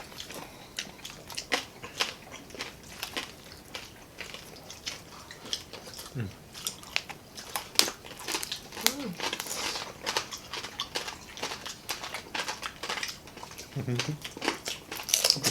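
Crisp crunching bites and chewing of crispy lechon roast pork, including the head, close and repeated, with people talking around the eating.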